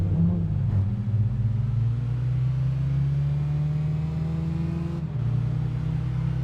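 A racing car engine in Gran Turismo 7 on the Eiger Nordwand track holds a steady, loud, close drone that climbs slowly, with short dips in pitch as gears change.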